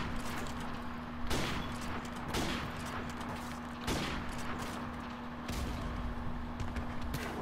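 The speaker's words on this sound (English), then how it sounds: "Oh, he nailed me with the machine gun." Gunfire from an M4 in Call of Duty: Modern Warfare Remastered, rapid shots and sharp bursts over a steady, dense game soundscape, with several louder cracks standing out.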